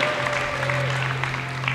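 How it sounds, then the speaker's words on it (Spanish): Warm applause for a player of a women's football team at a club team presentation, a steady patter of many hands clapping, fairly close and sustained. "Fortísimo aplauso para Villaplana con el número 13."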